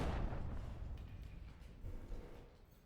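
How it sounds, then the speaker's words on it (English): A muffled explosion in a research lab in a video game, a deep booming burst at the start that rumbles and slowly fades away over nearly three seconds. "we heard an explosion"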